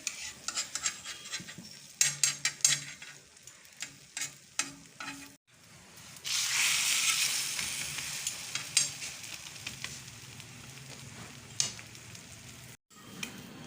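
A lachha egg paratha cooks in a pan over a medium-low flame. Soft sizzling runs throughout, with scraping and tapping as it is turned, and a brighter burst of frying near the middle. No one speaks.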